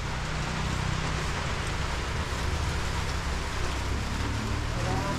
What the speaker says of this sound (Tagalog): Mukhang magtatagal itong ulan.